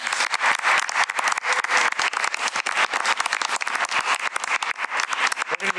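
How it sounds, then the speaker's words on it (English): An audience at a school district board and finance meeting gives a steady round of applause, many hands clapping densely and continuously at moderate volume, with no talking. "And please join me in a round of applause."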